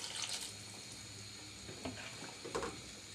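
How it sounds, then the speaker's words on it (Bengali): Water is poured into a pot of browned chicken curry to make the broth, a soft, short splashing gush near and fairly quiet, with a couple of brief louder splashes toward the end. "কষানো হয়ে গেছে, আমি এবার ঝোলের পরিমাণটা দিয়ে দিচ্ছি।"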